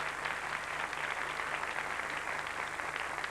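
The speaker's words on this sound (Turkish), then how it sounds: "Evet, alkışlarımızla alıyoruz." A studio audience on a 1993 Turkish TV game show applauds in a steady, dense wash of clapping that holds at an even level throughout, with a faint electrical hum underneath.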